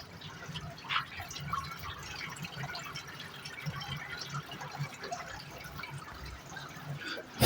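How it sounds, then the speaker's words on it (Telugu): Water trickles and drips inside an Amplesta Breezy 85 desert air cooler as its pump runs, a soft, continuous splashing with occasional brighter drips, fairly quiet and alone. "ఇక్కడ వాటర్ అయితే కేవలం వాటర్ సౌండ్ మాత్రమే మనకు వినిపిస్తూ ఉంది."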